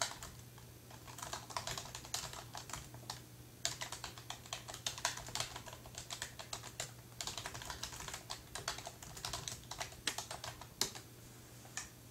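Someone types a sentence on a computer keyboard in a steady stream of quiet, rapid key taps, heard alone over a faint background hum.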